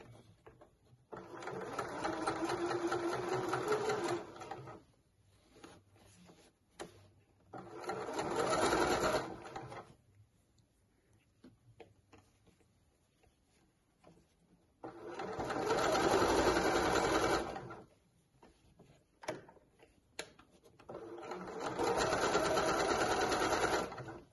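A sewing machine stitches the facing of a dress in four separate bursts of steady whirring, each several seconds long, with quiet gaps between them.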